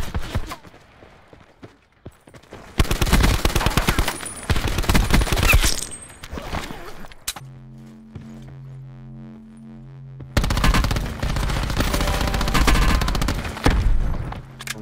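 Video game gunfire in loud, rapid volleys, with a dense burst early on, a short pause with a steady hum, then another long stretch of shots. No one speaks.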